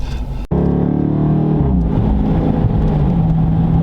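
A 2017 Dodge Daytona R/T's active exhaust booms loud and close as the car accelerates after a brief cut near the start, a steady deep engine roar rising and holding for several seconds.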